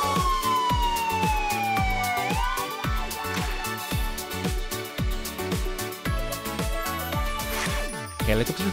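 An ambulance siren wails with sweeping pitch over a bouncy children's nursery rhyme song with a steady thumping beat.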